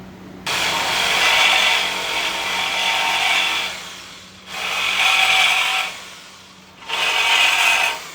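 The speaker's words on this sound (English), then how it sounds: "so we're just gonna cut this sleeve a little bit, not all the way through though" A saw cuts into a rusty bushing sleeve on a BMW E28 subframe in three strokes of harsh metal grinding, each lasting a few seconds with short pauses between, loud and close.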